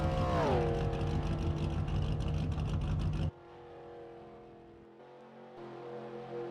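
A damaged race car engine in a video game at Talladega Superspeedway runs rough and droning, its pitch sagging before it cuts off abruptly to a much quieter, thinner hum for the remainder.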